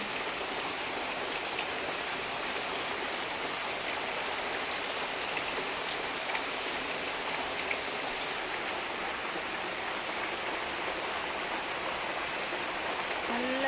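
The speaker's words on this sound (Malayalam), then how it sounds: "നല്ല മഴയാണ് മക്കളെ, നല്ല മഴ, അടിപൊളി." Heavy rain pours down outdoors on a dark, misty day near a tarpaulin shelter, making a steady, unbroken hiss of countless drops with no voices.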